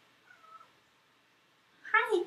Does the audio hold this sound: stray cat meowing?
yes